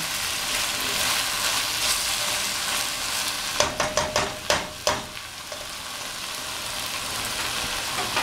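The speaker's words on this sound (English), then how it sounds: "you're sauteing the chicken so that it grabs the flavor with that onion" Constant loud sizzling of chicken sauteing with onion and garlic in a pan, with a few scraping, clattering stirs partway through.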